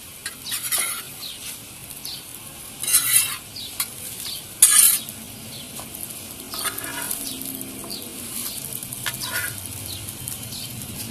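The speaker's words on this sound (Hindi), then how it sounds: "रोटी हमारी हाफ फ्राई हो गई है। इसकी साइड चेंज करेंगे" Lachha paratha frying in oil on a hot pan, giving a continuous crackling sizzle with a few louder bursts as the flatbread is moved and flipped.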